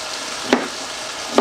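Meat sears in a pan for a crock pot English roast, a steady broadband sizzle with two brief louder crackles, close and alone without talk.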